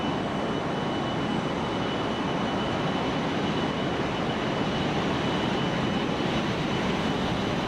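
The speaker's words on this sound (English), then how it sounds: "It's a loud aeroplane, this." Loud, steady roar of JustFlight F28 airliner jet engines during a climb in the MSFS 2024 flight simulator, a dense continuous drone with a faint high whine, unbroken throughout and with no speech.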